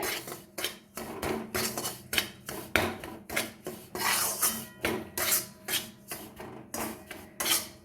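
Steady scraping and stirring of rice flour frying in ghee on low heat, a utensil rasping rhythmically against a metal pan in quick repeated strokes, close up with no voices.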